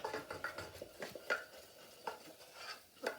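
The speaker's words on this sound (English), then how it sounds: "keep taking it off, stir, giving it a good stir" A macaroni cheese mixture is stirred in a pan with repeated close scraping strokes, rhythmic and moderately quiet, with light metallic clinks against the pan.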